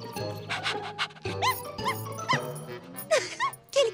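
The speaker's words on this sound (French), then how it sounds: "Quel cabot, celui-là!" A cartoon dog lets out a rapid series of short, yappy barks and yips, close and lively, over a light animated-show background.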